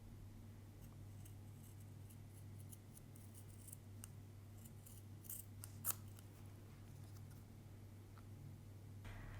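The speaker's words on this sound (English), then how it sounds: "So I'm going to keep trimming this, just following the line of the first piece of suede." Scissors trim ultra suede around a brass cuff bracelet, giving a few faint, scattered snips over a steady low hum and quiet room tone.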